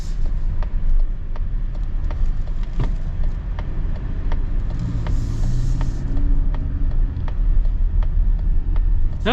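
A 2025 Mazda CX-70 plug-in hybrid accelerating hard in sport mode, heard from inside the cabin as a steady, loud low engine and road rumble with a rising tone midway.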